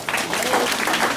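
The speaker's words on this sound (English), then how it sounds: "give yourself a round of applause" Audience applause after a community talk about children's wellbeing, a short steady burst of clapping from a gathered crowd, fairly close and even in loudness throughout.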